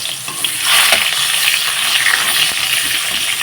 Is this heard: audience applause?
no